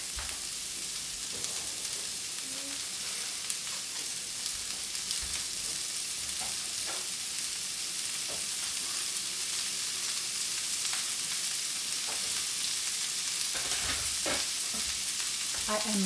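Chicken sizzles and crackles steadily in a hot pan for a long stretch, with occasional stirring scrapes and clinks, close by and without talk.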